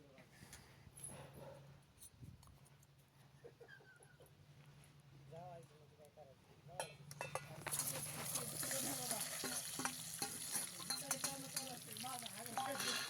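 Chicken tipped into very hot oil in a pot over a wood-fired stove for sautéing; a quiet, steady murmur gives way midway to a loud, continuous crackling sizzle, with faint voices underneath.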